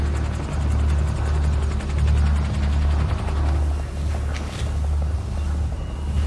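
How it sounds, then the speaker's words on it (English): A steady, loud, rhythmic thudding of helicopter rotors fills the whole stretch, with a low rumbling engine drone underneath. "That sounds like a helicopter to me."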